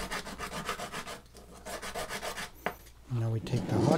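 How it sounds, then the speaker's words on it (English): Sanding the edges of a small part for a saxophone, a close rhythmic rubbing of back-and-forth strokes, pausing briefly before rougher, louder scraping resumes. "So before we glue this in, we're going to sand the edges a little bit off."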